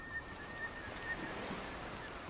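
Ocean surf by the docks in DayZ on the Sakhal map, a low continuous wash of waves with faint wind, steady and moderately distant, with no voices.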